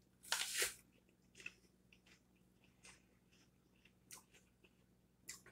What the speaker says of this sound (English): So I'm going to take a bite, pierce the skin, expose the flesh, and sprinkle some on.